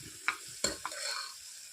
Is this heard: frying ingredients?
yes